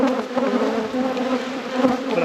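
A dense swarm of bees hums loudly and steadily around an opened deep hive during an after-winter inspection, a close, continuous buzz with no speech.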